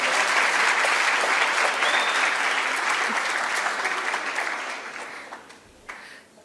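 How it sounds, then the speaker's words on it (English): Audience at a scholarship award ceremony applauds with sustained, dense clapping that stays loud for several seconds, then tapers off and dies away near the end. "give him an applause"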